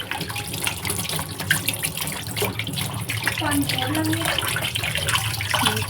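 Cool water runs steadily from a tap during a Vat Savitri puja, a constant close splashing stream with faint voices underneath.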